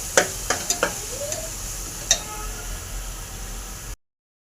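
Spices and chili powder for an egg curry sizzle hard in a pan while a spoon clicks and scrapes against it a few times, a dense close hiss that stops abruptly after about four seconds.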